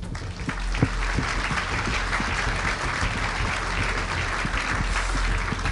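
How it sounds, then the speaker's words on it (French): An audience at a French sustainable real-estate awards ceremony applauds five award winners, steady dense clapping filling the hall without pause, loud and close, with no voices over it. "On les applaudit tous les 5."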